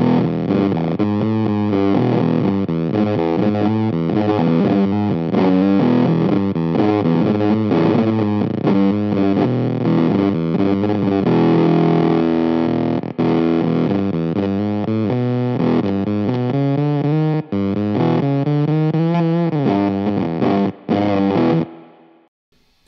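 Guitar played through a KHDK Scuzz Box fuzz pedal, a gritty, heavily distorted riff of chords and single notes played close and loud, continuous until an abrupt cutoff at the end, with no speech.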